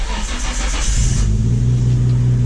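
A Nissan Skyline R32 GT-R, with a coolant leak, cranks and fires up close by, its engine catching with a loud roar that settles into a steady, deep idle rumble.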